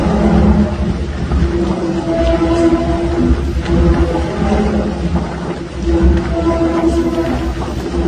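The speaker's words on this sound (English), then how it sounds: "What you're hearing here is just the bridge." A low, moaning hum of suspension bridge cables vibrating in the wind, with sustained tones that swell and fade under a constant roaring rumble.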